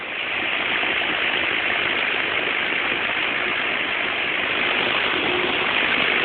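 Manning Bowman electric box fan running on its low setting, a steady, close whooshing rush of air with an even motor hum, constant throughout with no talk.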